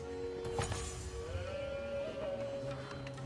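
Sheep bleating in Age of Empires IV, a few faint, short bleats over quiet game ambience and background tones.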